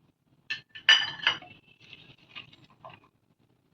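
A metal spoon clinks sharply against a bowl as gram flour and rice flour are added for sweet corn pakoda, a few bright taps followed by softer scraping, close up and quiet with no talking.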